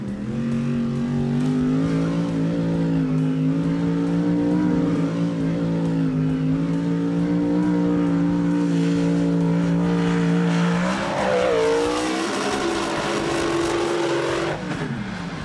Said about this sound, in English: the Monster Energy truck leaves the elliptical ramp's kicker to create the massive amount of rotation he'll need